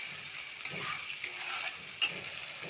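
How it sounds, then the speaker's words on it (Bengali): A ground paste of dried chili, cumin, garlic and ginger fries over fried onions in a pan for a young jackfruit dish, giving a soft, steady sizzle broken by a few sharp scrapes as it is stirred. "মশলাটা এখন আমি ভালো করে ভেজে নেব"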